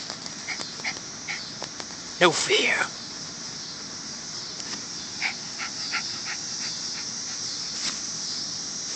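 A dog digging in dirt on grass, with soft panting, high whimpers and a brief squealing cry near the middle, set against a steady insect hum while someone talks.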